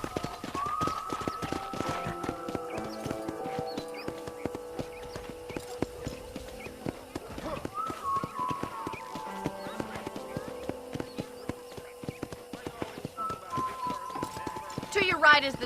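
Rhythmic hoofbeats of a galloping horse in the video game Red Dead Redemption clop steadily with occasional whinnies, set against background music and talking voices.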